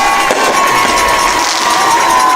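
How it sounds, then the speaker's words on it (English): Fireworks bursting over a stadium after a high school football game, heard as a steady, dense wash of crackle and rumble mixed with distant crowd noise, with no clear single blasts standing out. "The fireworks are going off."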